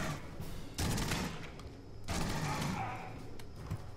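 Automated sentry turret fire in Aliens: Colonial Marines comes in two sustained rapid bursts of gunfire, moderately loud, with a steady rattle of combat noise between them.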